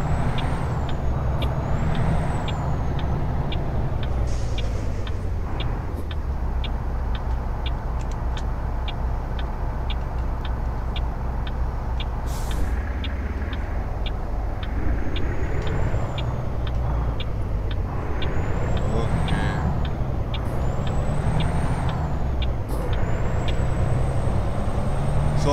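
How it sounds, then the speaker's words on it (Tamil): Truck engine in American Truck Simulator, a Freightliner on the road from Moab to Salina, Utah, droning loud and continuous with a deep rumble, broken by occasional hissing air brake releases and short ticking clicks, with no talk. "சவுண்ட் அதிகமா இருக்கு, இன்ஜின் சவுண்ட்."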